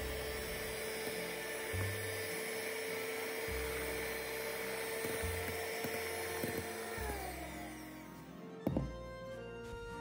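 A mixer whisks egg white batter at low speed while a hot coffee pudding mixture is poured in for a coffee pudding cake. It gives a steady, humming motor whine with a low, pulsing churn, ending in a brief clatter.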